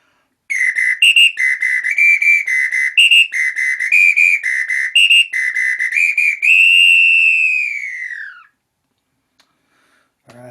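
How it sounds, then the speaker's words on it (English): A Brazilian samba whistle played loud and alone in rapid staccato bursts with a shrill warbling trill, ending in one long sustained blast that slowly bends downward in pitch before cutting off. "So, ladies and gentlemen, the Brazilian samba whistle."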